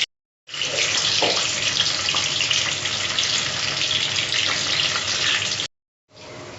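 Chana dal and small onions frying in hot oil give a loud, steady sizzle that holds for about five seconds, cuts off abruptly, then starts again briefly.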